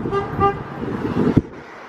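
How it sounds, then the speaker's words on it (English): Two short car horn toots sound close by in stuck traffic, followed by a low idling engine and road rumble with a sharp thump near the end. "Just coming in honking at anybody anywhere."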